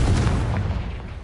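A Confringo spell blast in Hogwarts Legacy lands as one heavy, booming burst that rolls off into a fading rumble.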